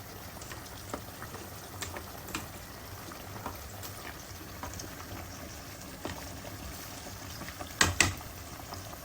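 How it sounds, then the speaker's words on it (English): A low, steady bubbling of a pot of salted water boiling for pasta, fairly quiet, with a couple of soft clinks near the end. "So our water is boiling, a little sea salt."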